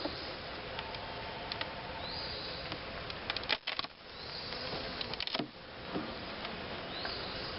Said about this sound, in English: Oh yeah, tons of bees.